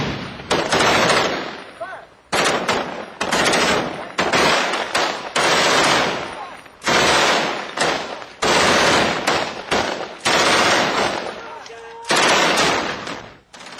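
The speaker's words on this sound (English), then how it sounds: "The heavy fire keeps the insurgents' heads down." Heavy gunfire in urban combat in Fallujah: loud, close bursts of automatic weapon fire in repeated volleys with short gaps, some rapid single shots between them.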